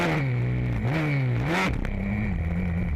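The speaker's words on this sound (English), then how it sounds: "Just listen to the revs on this Suzuki" A Suzuki racing motorcycle engine screams at high revs during a race in Triscina, Sicily, its pitch climbing, dipping, then climbing again as it shifts, loud and close with crackling.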